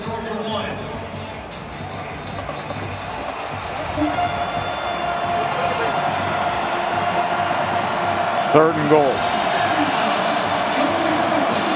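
A football stadium crowd at a Georgia Bulldogs home game roars in a broad, sustained wash of noise, loud and continuous, while a commentator talks over it.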